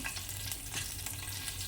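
Cumin seeds sizzling in very hot oil for kadhi: a steady, dense crackling fry heard close up, with no talk.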